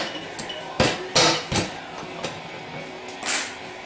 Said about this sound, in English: And just go around with my pick and push the rings in